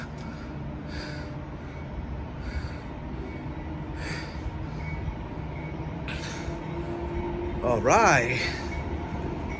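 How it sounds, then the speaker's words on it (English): A continuous low rumble of a Union Pacific auto rack freight train rolling past at the Oakland Coliseum Amtrak station, with someone speaking briefly and crows cawing intermittently nearby. "We got a Union Pacific southbound train coming by, track number 3."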